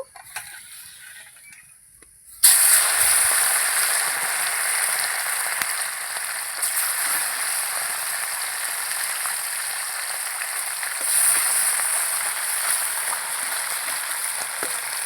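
Fish frying crisp in hot oil makes a steady, dense sizzle that starts abruptly after a short quiet stretch and then continues evenly throughout, with no voices.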